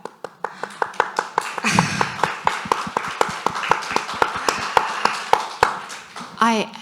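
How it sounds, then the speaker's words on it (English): Audience applause at a talk on women's mental wellness at work, steady clapping from many hands filling the whole stretch, close and moderately loud, with a voice briefly heard near the end. "While I appreciate the applause"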